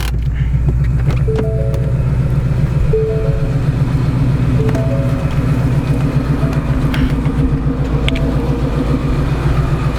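A Whipple-supercharged Ford Mustang GT500 idles steadily up close, a loud, even low rumble with a pulsing rhythm and faint whining tones riding over it, with no voices.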